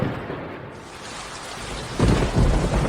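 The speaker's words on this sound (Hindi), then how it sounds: "बारिश हो रही है।" Steady rainfall hisses throughout, and about two seconds in a deep rumble of thunder swells up beneath it and grows louder. No voices are heard.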